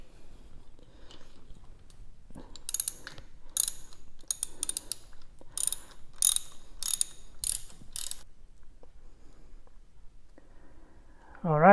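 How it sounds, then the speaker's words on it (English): A wrench works a spark plug loose from a motorcycle: close, rhythmic ratcheting clicks come in bursts with brief gaps, fairly loud against a quiet background. "I will take the wrench that's a little bit longer actually for the spark plugs"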